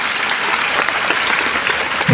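A religious discourse gathering breaks into loud, dense clapping from a large crowd, a continuous rapid patter of many hands with no pause.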